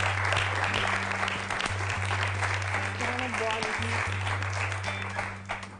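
Studio audience applause after a cooking contest on a TV cooking show, steady clapping mixed with voices and a sustained low electronic hum, fading slightly at the end.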